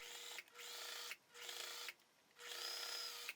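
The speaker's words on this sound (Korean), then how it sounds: "여기서부터 이렇게 한 줄 끝까지 박아주도록 하겠습니다" A sewing machine stitches a welt pocket seam on an outerwear garment in three steady, close whirring runs of rapid stitching, each separated by a brief pause.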